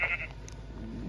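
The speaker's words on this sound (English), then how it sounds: "Let me just kill some more sheep for food." A single short sheep bleat in the Minecraft video game, heard briefly at the start over a steady background hum.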